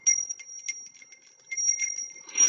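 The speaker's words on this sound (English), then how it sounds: "Another way you can cleanse the energy in an area is with a bell." A small bell is rung over tarot cards to cleanse energy, repeated bright metallic rings in quick succession with a sustained high ringing tone, close and clear in an otherwise quiet space.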